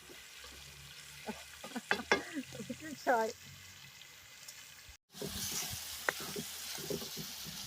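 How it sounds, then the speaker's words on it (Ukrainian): Food sizzles in a pan over a strong fire, a steady hissing fry that swells in the second half after brief talk and a moment of quiet. "на ньому щось смаже"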